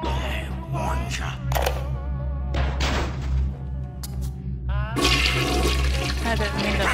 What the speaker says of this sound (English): I didn't mean to flush the toilet